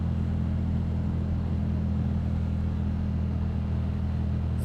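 A Yamaha MT-07 motorcycle ridden through commuter traffic, lane splitting, with a steady engine drone and road and wind rumble throughout, without any talk.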